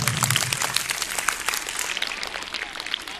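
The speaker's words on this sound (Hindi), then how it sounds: "तालियों की आवाज जोर आनी चाहिए" Dense audience applause at a Republic Day celebration, steady loud clapping from a crowd throughout, close and continuous.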